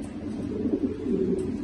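French meat pigeons of pure silver and coloured breeds cooing steadily at close range, a continuous low throaty burble swelling and fading over a short stretch, with no talk.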